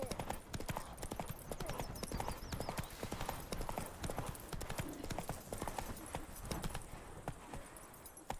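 A horse gallops in The Witcher video game with quick, rhythmic clip-clop hoofbeats throughout, loud and close, and a faint voice speaks briefly over them.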